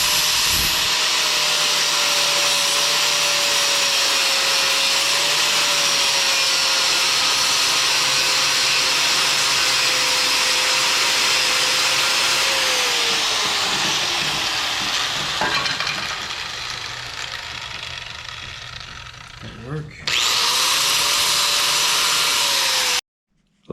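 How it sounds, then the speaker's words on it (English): A power drill runs while holes are bored in the metal shields of fabricated engine mounts on a Dodge Dakota R/T. It makes a loud, sustained whining roar that drops in pitch and dips near the end, then briefly resumes. "we'll start drilling some holes and get these bolted down"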